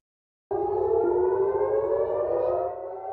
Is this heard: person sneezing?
no